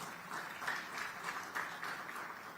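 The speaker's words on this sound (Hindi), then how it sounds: "क्या बात है, जोरदार तालियां।" Audience applause at a real-estate conclave, a brief, soft patter of many hands clapping, fairly even and distant.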